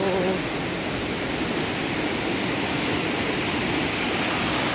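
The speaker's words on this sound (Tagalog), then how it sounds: "Ang unang falls." Steady broadband rush of a waterfall, the first falls reached along a planted path, now beside a dam, continuous and fairly loud with no talk over it.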